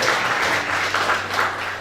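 An Easter Sunday congregation claps together in a church service, a broad, continuous wash of applause at moderate loudness with a low hum underneath.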